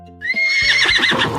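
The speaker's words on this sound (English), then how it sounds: "A horse says, neigh," A horse gives a single loud, close whinny lasting just over a second, rising and then trembling as it fades, with no other sound around it.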